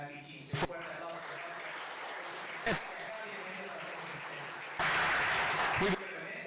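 A voice fills most of the time at an interinstitutional academic forum, then a short, loud burst of audience applause rises near the end and cuts off after about a second.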